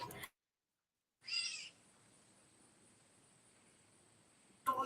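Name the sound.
bird call that sounds like a cat meowing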